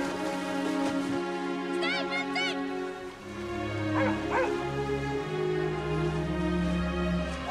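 A dog barks and yips a few times in an episode of the TV series Lost, season 1 episode 23, Exodus Part 1. The short barks are partly masked by continuous talking and background score.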